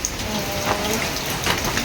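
Steady rain falls over a village on a foggy, rainy afternoon, a dense even patter of drops on surfaces that fills the whole clip with no talking.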